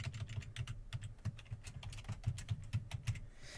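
Rapid typing on a computer keyboard, steady clusters of clicky keystrokes at close range, quiet, with no voices.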